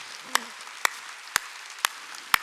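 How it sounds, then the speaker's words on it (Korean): A church congregation at a Wednesday worship service claps hands in a slow, regular beat, five sharp distinct claps spaced about half a second apart over a quiet background. "박수 치다."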